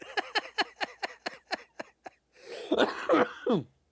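A rapid series of short, hacking coughs, about ten in a row, then a longer, raspy coughing fit that trails off.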